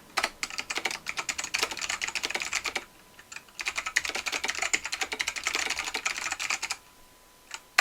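Rapid clatter of fingers typing on a computer keyboard, close up, in two quick bursts of keystrokes separated by a brief pause, with a lone final tap at the end.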